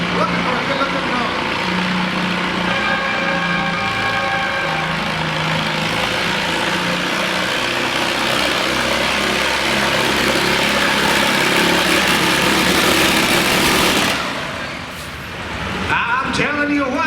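A John Deere A tractor roars under heavy load at a winter tractor pull in Chatham, VA, its engine droning loud and steady for a long run before easing off, with an announcer's voice partly mixed in.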